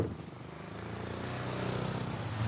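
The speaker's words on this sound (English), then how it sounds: "I became aware of the distinctive engine noise of a trials motorcycle, which was obviously keeping close to the car." Engine of a trials motorcycle following close behind a car, a steady droning hum with harmonic tones that rises slightly in pitch and loudness as it keeps pace.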